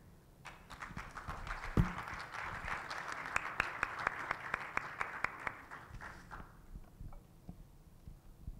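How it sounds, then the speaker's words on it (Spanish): Applause for a certification ceremony participant, a licensed arts graduate from Santa Cruz: a crowd claps steadily for several seconds with a few sharper claps standing out, then the clapping thins and fades out near the end. "Por favor, recibamos con un fuerte aplauso"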